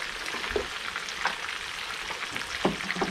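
Onion, garlic and ginger frying in a pan, a steady close sizzle with soft crackles and a few light stirring knocks, no talking.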